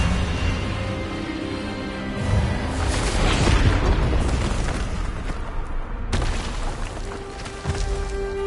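Spell blasts and booming magical impacts during a wand duel in Hogwarts Legacy, a run of rumbling bursts and a sharp crack toward the end, layered over a low musical drone.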